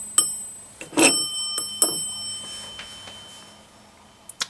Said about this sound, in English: And an M-Tech bell.